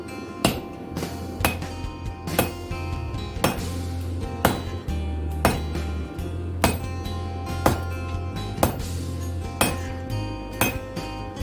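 A 4.5 pound hammer forges a steel fire poker, striking with about a dozen sharp, ringing metallic blows at a steady, slightly uneven pace, close and loud over a low hum.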